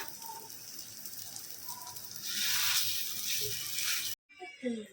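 Poppy-seed fritters, posto bora, frying in mustard oil with a steady broadband sizzle that swells louder partway through, cut off sharply near the end by a brief pause and a few clatters.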